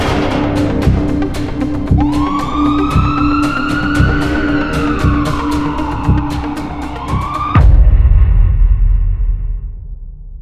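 An ambulance siren in a Tamil crime drama wails in long rising and falling sweeps over steady rhythmic thumping, then cuts off abruptly near the end, leaving a low rumble.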